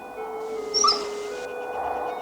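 A cartoon dog lets out a short, high whimpering yip over a steady background music tone, brief and fairly close.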